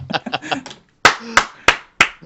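Four sharp hand claps ring out alone at an even, quick pace, close and fairly loud, right after a stretch of talking.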